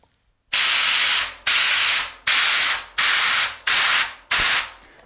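An HVLP spray gun sprays paint with its fluid tip control closed down, producing six loud, even hissing bursts of roughly a second each. The bursts are separated by brief pauses, with no talking.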